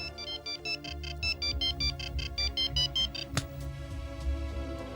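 A mobile phone, a Keyboard 22 model, rings with a repeated electronic ringtone: rapid bursts of bright tones in a steady pattern, cut off before a sharp click, in a crime drama TV show.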